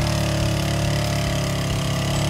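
A KAYO 200 ATV engine runs steadily and loudly while pulling a trailer, giving a continuous, even drone close by with no talk.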